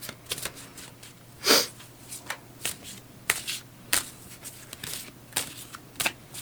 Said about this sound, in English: The cards I'm shuffling.